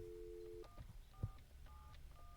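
An old UK landline telephone dials 1471: a steady dial tone cuts off into four short keypad tones, with a soft handling knock in between, quiet and close with no talking.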